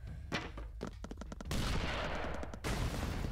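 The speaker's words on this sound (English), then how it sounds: "Cool guys don't look at explosions." Rapid bursts of gunfire in The Expendabros video game crackle in quick succession, then two heavy blasts of explosive noise rumble, fairly faint overall.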